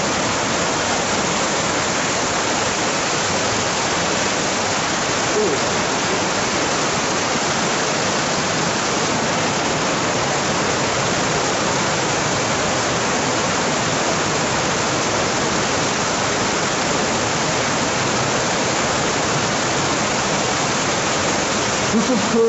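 Water rushes steadily through an underground tunnel system, a loud, unbroken roar of river flow that stays constant from start to finish with no pauses.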